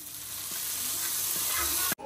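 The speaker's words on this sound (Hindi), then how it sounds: "ये भी इसमें लगेगा तड़का।" A tadka tempering sizzles hard in hot oil for chutney, a continuous loud frying hiss with a faint stir, then cutting off abruptly near the end.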